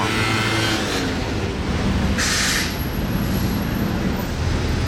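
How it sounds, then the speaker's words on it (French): A convoy of Aston Martins, a DBX SUV and a wrapped Vantage F1 Edition, rolls past, giving a loud, close, steady roar of engines and tyres for about five seconds, with a brief hissing surge midway. "Convoi Aston Martin avec un DBX et Aston Vantage F1 édition qui a été wrappé."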